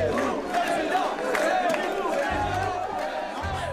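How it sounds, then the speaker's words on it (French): Crowd at a Zemmour political rally chants and cheers in rhythmic unison, a loud, close mass of voices carrying the slogan with a steady pulse and occasional shouts over it. "la foule applaudit « Zemmour président,"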